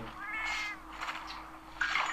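Cats meowing in the handheld game Monster Hunter Portable 3rd, a couple of short high-pitched meows, one near the start and another near the end, at moderate volume with no talking.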